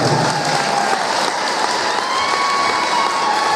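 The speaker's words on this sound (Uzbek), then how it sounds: "Kim ota-onasini yaxshi ko'rsa, qo'lini baland ko'tarib qarsak chaladi." An audience breaks into sustained applause, a loud, dense and even roar of many hands clapping together without letup.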